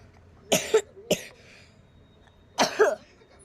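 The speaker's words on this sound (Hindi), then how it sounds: "मुझे थी खांसी" A person coughs twice in quick succession, then pauses and coughs once more, loud and close in an otherwise quiet space.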